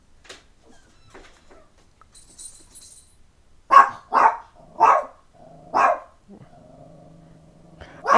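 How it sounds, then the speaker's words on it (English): A dog barks four times in a loud, close, evenly spaced series, each bark sharp and short, with faint soft sounds before and a low tonal hum and another bark starting at the end. "my dog is barking."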